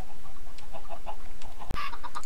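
Minecraft chickens on a video game chicken farm give scattered, soft clucks at a steady moderate level, broken once by a sharp click near the end.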